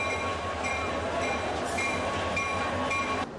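Train at a busy railway station gives a steady low rumble and hum with faint clatter, a distant wash of sound that stays even before cutting off abruptly.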